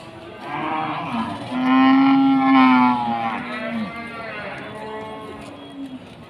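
Large horned Simmental cattle at Pasar Wage livestock market in Pati, one giving a loud, deep, drawn-out moo in the middle while the steady hubbub of the market continues around it, close and prominent.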